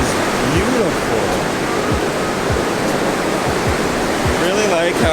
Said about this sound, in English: Wow, this beach is beautiful.